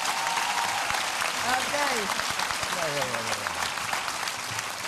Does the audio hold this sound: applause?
yes